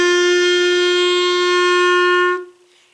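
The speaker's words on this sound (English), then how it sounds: "I'm going to blow into the clarinet and get a sound like this." One steady clarinet note is blown and held for about two seconds before cutting off, clear, close and alone with no talking.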